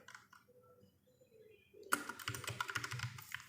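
Fast clicking of a computer keyboard while coding in React JS, faint and sparse at first, then a dense, loud burst of rapid keystrokes in the second half, with no talking.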